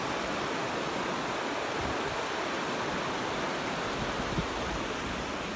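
A river rushing over a dam, steady broadband roar of flowing water that stays constant and loud throughout, with no speech.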